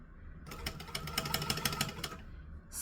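A sewing machine stitching fabric, running in a fast steady rhythmic chatter for about a second and a half before stopping, close and fairly quiet.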